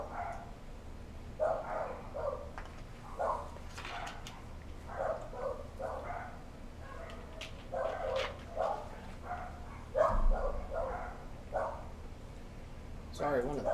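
Several neighborhood dogs bark in repeated bursts from a moderate distance across an alley, with irregular clusters of barks over a faint background hum.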